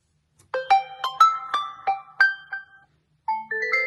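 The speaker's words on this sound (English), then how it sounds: "Let's open some ringtone." A smartphone ringtone, from a Galaxy S23 Ultra or OnePlus 10 Pro, plays as a clear, close melody of bright struck notes in an even rhythm, pausing briefly before resuming, with no talking.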